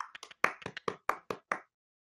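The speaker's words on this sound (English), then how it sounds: "People are all clapping right now." Audience applause after a presentation, a short run of about a dozen separate claps, sharp and close, that thins out and stops within two seconds.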